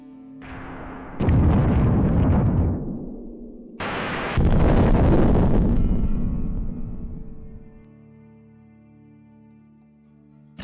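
A HIMARS missile strike on a Russian convoy, with two heavy booming blasts that roar and rumble for several seconds each, then fade into a low lingering drone.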